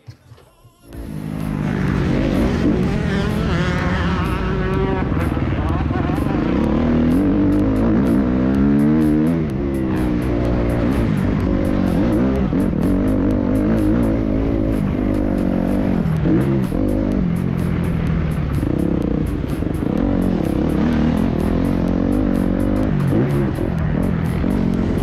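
A motocross motorcycle engine roars steadily at high revs for the whole stretch, loud and close, with pitch rising and falling as the throttle is worked.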